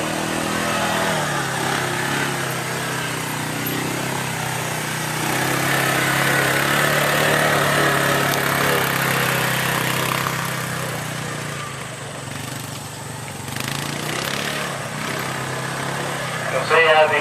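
An ATV engine drones and revs through turns at an outdoor safety course demonstration, moderately near and steady, while someone narrates over a loudspeaker.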